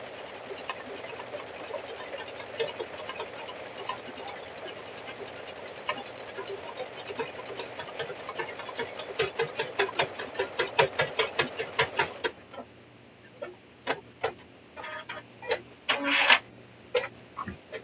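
An embroidery machine stitches a keychain in the hoop with a steady, close mechanical rattle of rapid needle strokes, then slows near the end into scattered separate clicks.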